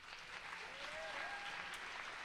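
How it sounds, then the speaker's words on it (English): An audience applauds for the Musical Theater Ensemble at a McNally Smith vocal concert, a faint, distant, steady wash of clapping heard throughout, with a brief tonal note drifting through the middle. "So please give an applause for the Musical Theater Ensemble."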